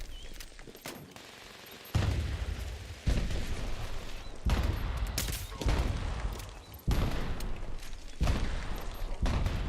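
Pipe pistol gunfire in a video game rings out in rapid, clustered bursts of sharp loud shots separated by short pauses, close and dominant over a faint background.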